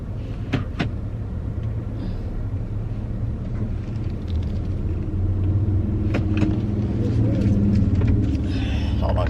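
Car interior while driving on a road behind another car, steady engine and road rumble that grows slightly louder, with a few clicks and thumps inside the cabin and some talk.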